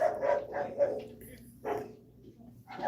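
A dog barks several times in short bursts, close and moderately loud, with a pause in the middle before another bark, while people talk around it.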